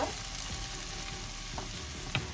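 Black chickpeas being stirred and fried on low heat make a brief, steady sizzle with a few light scrapes and clicks of a spoon against the pan.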